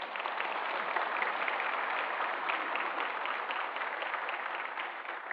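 Congregation applause at a Sunday worship service, welcoming a missionary who serves in the Philippines: a steady, dense patter of many hands clapping together, moderately quiet and holding evenly throughout with no voices over it.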